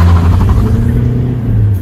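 A Ford Mondeo 2.0 TDCi diesel accelerating hard from a standstill on a private road, a loud, close, low engine drone with a rising whir under it.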